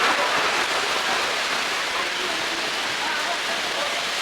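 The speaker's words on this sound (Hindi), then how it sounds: "एकदम से ही जोर के बारिश स्टार्ट हो गई है यहाँ पे" Heavy rain pours down at a port in Miami, a steady dense hiss of downpour filling the whole clip with no break.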